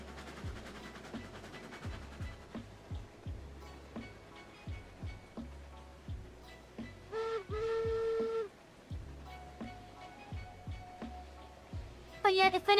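A video game train hisses and chuffs in a steady rhythmic beat under talking, with a brief tonal steam-whistle blast midway and another near the end.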